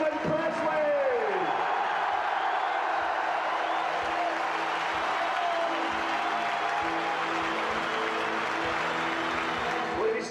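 A stadium crowd cheers and applauds for Hearts captain Steven Pressley at a Scottish Cup celebration, a steady broad roar that holds at an even level for the whole stretch, with a voice briefly heard over it.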